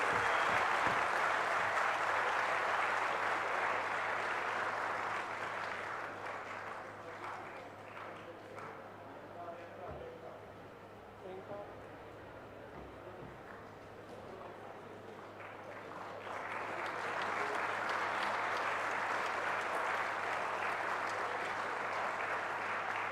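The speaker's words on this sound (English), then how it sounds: "Can I have a huge round of applause for our winners?" A conference audience at an annual international research conclave applauds award winners, with sustained loud clapping that dips in the middle and then swells again, steady and continuous throughout.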